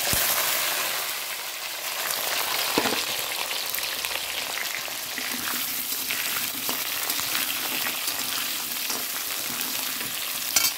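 Potatoes dropped into hot oil in a pan after frying chital fish for curry, a loud continuous sizzle and crackle with occasional stirring scrapes, close and steady throughout.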